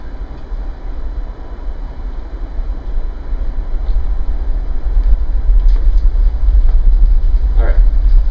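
A subway train plays back from recorded video. It gives a steady low rumble that grows louder toward the end, with faint squeals and clatter near the close.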